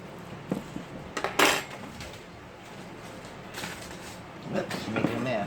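A knife and fork scrape and clink against a plate while cutting into a crispy air fryer baked potato, a few short crunchy bursts close by, with brief talk around them.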